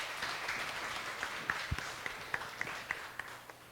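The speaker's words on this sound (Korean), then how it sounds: "박수하겠습니다." Applause from a church homecoming festival talk-show audience, a soft steady patter of many hands with a few sharper claps standing out, moderately distant and lasting several seconds.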